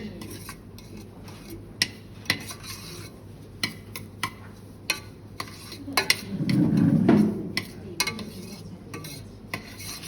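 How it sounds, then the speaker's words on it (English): Halva being stirred in a pot off the heat: a spoon scrapes and taps against the metal in scattered clinks, with a short thicker rasping swirl partway through, fairly close and with no voices. "once you take it off the heat, you still got to keep stirring"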